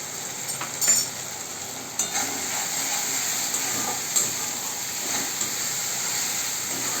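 Spices with turmeric, salt and cumin powder hiss and sizzle in a frying pan while being stirred for a chicken curry, a steady close frying sound with occasional scraping knocks and no talking.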